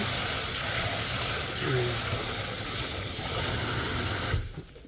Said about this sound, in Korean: 이렇게 팥을 한 컵을 씻어 갖고